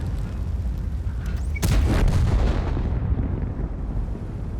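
A single heavy tank cannon shot from a T95/FV4201 Chieftain in a video game: a loud, close boom partway through, followed by a long rumbling decay over a steady engine-like background.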